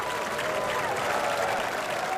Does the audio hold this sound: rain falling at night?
no